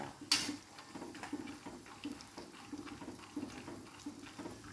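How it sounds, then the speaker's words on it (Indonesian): Peanuts fry in oil in a pan over medium heat, giving a soft, irregular sizzle with small crackles and pops, close but faint and alone. "goreng dulu kacangnya sampai masak"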